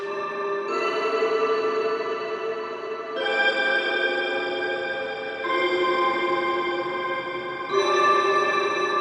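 A toy piano played through an Empress Zoia effects pedal on factory preset 35, a plate-style shimmer reverb: sustained chiming notes in four overlapping swells, each bloom ringing out with bright, shimmering harmonic tails.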